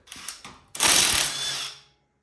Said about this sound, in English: Then we're going to remove the caliper. 13mm socket.